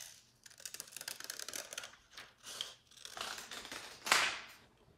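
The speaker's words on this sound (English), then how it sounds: "take your scissors right through, snip it in half" Scissors snipping through a folded sheet of Mylar: a quick run of crisp close cuts and crinkles, followed by a sharper rustle of the thin film near the end.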